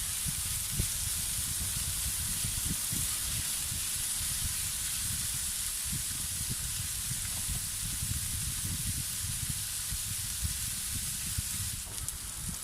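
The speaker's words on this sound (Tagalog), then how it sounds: "ituloy lamang po natin ang ating paggisa hanggang sa um, mag-brown konti or mag-iba ang kulay ng ating pork belly" Pork belly sautéing in a hot pan until it browns: an even, continuous hiss of frying fat with small crackles throughout, close and steady, with no talking.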